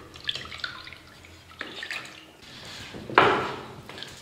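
Water-diluted ceiling paint is stirred with a scrap of tile, giving soft, wet sloshing and scraping strokes up close, quiet with a louder swirl near the end.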